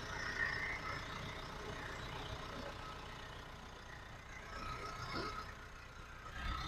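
A 2019 Mitsubishi Triton pickup with an automatic gearbox and a diesel engine idles steadily, a low, even engine rumble heard fairly quietly with no talking.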